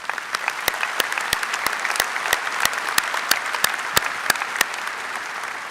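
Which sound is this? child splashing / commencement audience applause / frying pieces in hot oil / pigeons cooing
commencement audience applause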